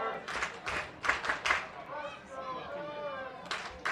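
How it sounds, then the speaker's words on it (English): Crowd at Edwards Stadium during a college men's soccer match between UC San Diego and California, scattered rhythmic clapping and cheering at moderate distance under a commentator's voice. "the crowd's starting to come alive a little bit here at Edwards"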